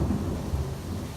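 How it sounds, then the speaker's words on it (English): Low, rolling thunder rumbles through a Halloween downpour, a deep continuous roll with rain hissing faintly beneath it. "that is the sound of thunder because it wouldn't be Halloween without a downpour"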